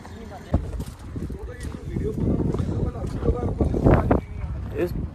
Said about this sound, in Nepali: यस्तो धेरै हावा चलिरहेको